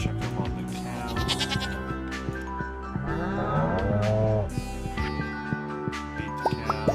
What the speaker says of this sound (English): Check up on the cows.